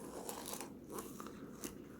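Crunchy bites into a roasted Thanksgiving turkey, several crisp crackling bursts of skin breaking close to the mic, spaced irregularly over a couple of seconds.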